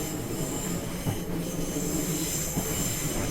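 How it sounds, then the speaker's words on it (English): A Class 365 electric multiple unit in Train Simulator 2020 runs with a steady broadband rumble and wheel squeal, its motor whirring up continuously with no voices. "Love the sound of these trains. I don't know what it is about that sort of like whir up of the engine"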